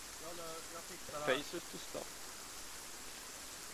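Soft, steady rain falls in the Arma 3 military simulation game, a faint continuous hiss beneath a few brief quiet spoken words.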